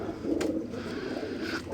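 Pigeons cooing softly inside a loft, a low continuous burbling coo with a brief higher call near the start, close and steady.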